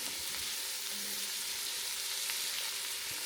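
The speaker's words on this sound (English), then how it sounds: "you're just going to saute these until they get a little loose" Seafood ingredients sauté in a pan with an even, steady hiss of frying, moderately loud and uninterrupted over a short stretch, without speech.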